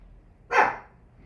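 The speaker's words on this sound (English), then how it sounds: "sorry, I'm ruining the video here for you guys with the dog barking in the background" One dog bark rings out in the background, a single short burst that fades away, heard indoors with no one talking.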